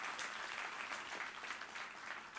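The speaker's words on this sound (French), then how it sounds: "On peut l'applaudir?" An audience applauds a firefighter seated among them, with continuous dense clapping throughout that is even in level and fairly faint and distant.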